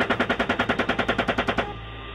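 Rapid automatic gunfire in a combat zone, a steady burst of about fifteen evenly spaced loud shots that stops abruptly and leaves a faint background hiss.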